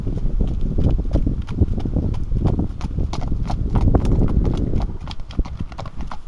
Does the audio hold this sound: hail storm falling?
no